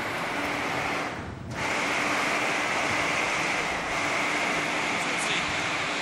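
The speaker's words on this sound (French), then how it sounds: "j'aurai un petit peu de vent" Wind blasts across a television studio set in a steady loud broadband rush that briefly dips and then returns, close to the microphone.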